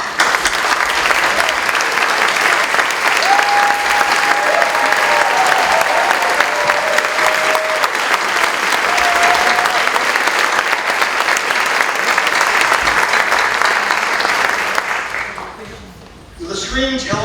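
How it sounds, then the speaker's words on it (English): Sustained applause from a festival opening-night audience honoring the sponsors, a dense, steady wash of many hands clapping with faint voices mixed in, fading out near the end. "Could our sponsors please stand for a truly well-deserved round of applause?"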